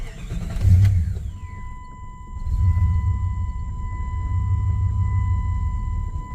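A 2000 Chevrolet Express van engine idles with a steady low rumble and swells briefly in a rev, heard close with a thin whine laid over it.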